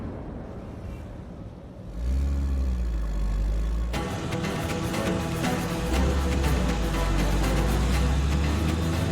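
A car engine runs and revs with a low steady rumble while driving, louder after a sudden shift partway through, alone with no voices.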